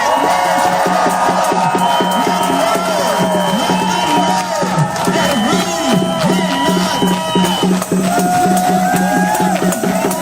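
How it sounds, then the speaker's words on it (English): A rally crowd cheers and whoops steadily and loudly throughout, with shouted voices blending into a dense, continuous roar. "Cheer for us. Cheer for us. Make noise for us."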